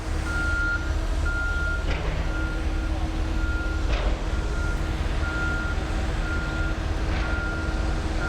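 Regular reversing beeps from a front end loader at a construction site during a mall renovation, repeating steadily over a constant diesel engine rumble, with occasional clanks and thuds from moving a large tank.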